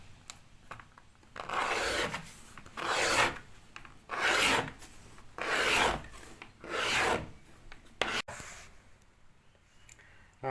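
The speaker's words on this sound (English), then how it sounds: "That's had a good scrape down." A steel blade scraping an oak floorboard in long, rasping strokes, five loud sustained passes in a steady rhythm, close up with no talking.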